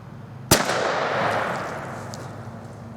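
Vintage .410 shotgun fired once with a modern turkey load outdoors, a single sharp, loud blast followed by a long, fading echo.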